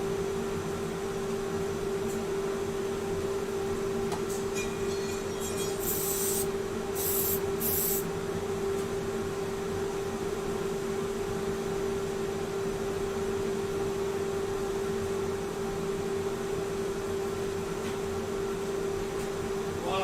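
A dust extractor running beside a wood lathe hums steadily and fairly quietly throughout, with a few brief hissing bursts partway through and no talking.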